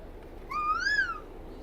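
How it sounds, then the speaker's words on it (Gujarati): Single rising, whistled call of an Asian koel in a Botad village, clear and mid-distance over a steady background hum, no other voices. "કોયલ બોલી."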